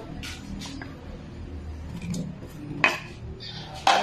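Chopped onion and tomato go into a casserole pot while cooking pork sinigang, with soft scraping and shuffling followed by two sharp clinks of a utensil against the pot.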